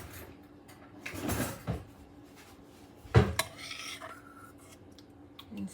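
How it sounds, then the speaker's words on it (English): Clattering kitchen utensils and dishes as a spoon is fetched during home cooking of apple turnovers, with scattered clinks and a sharp metallic knock midway, close and moderately loud. "And we'll get a spoon."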